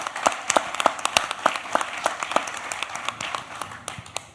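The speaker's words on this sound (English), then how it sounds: "I would first want everyone in the audience to give a round of applause to Hind Siddiqui and the Siddiquis" An audience at a watch fair claps in steady applause, a dense patter of many hands with sharper individual claps standing out, sustained at even loudness throughout.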